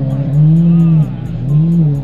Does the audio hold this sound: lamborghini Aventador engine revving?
yes